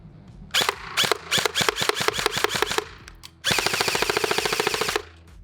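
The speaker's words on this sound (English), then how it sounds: "with an M4, safe, semi, full auto, and just shoot." An airsoft M4 rifle fires a few short bursts, then one sustained full-auto string of rapid, evenly spaced cracks, loud and close with no talking.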